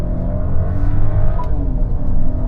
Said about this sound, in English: That is insane revving for a beast of this size